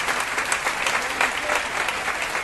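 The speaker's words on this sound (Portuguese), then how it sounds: "Um aplauso para as irmãs." Audience applause at a Bible study gathering in Rotterdam, a dense steady clapping from a crowd that continues evenly throughout without voices.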